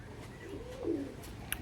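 Madras pigeon cooing close by, a single soft, low, rolling coo that swells briefly and fades, with a quiet background and a faint click.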